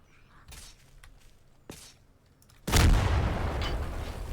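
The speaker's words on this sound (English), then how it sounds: "That was a powerful enough shot to kill that queen." A mounted gun fires in Garry's Mod: a sudden loud boom lands late, following scattered quieter clicks and thuds, and a broad roaring decay lingers to the end.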